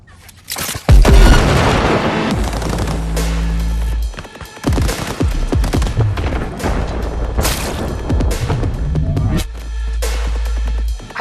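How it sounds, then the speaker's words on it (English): Loud gunfire in Cyberpunk 2077 cracks out in repeated bursts with heavy booms, over a low droning backdrop that swells and drops throughout. "Heard shots."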